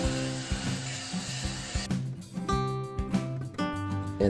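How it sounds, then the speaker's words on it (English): Power sander finishing a wooden surfboard with 150 grit paper, a whirring motor with rhythmic pulsing passes and scraping contact, close and fairly loud throughout. "the last thing we did was give it a nice little finish sand with about 150 grit"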